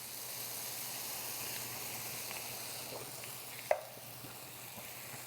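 A pan of coconut milk and tomato paste is stirred for a curry, giving a soft, steady sizzle and hiss with a single sharp clink of the utensil partway through.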